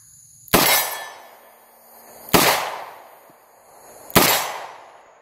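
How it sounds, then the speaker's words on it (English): Three loud, sharp shots from a Winchester Defender shotgun at about 20 yards, evenly spaced roughly two seconds apart, each a close blast with a decaying ring and no talk. "first will be not illuminated shots at about 20 yards"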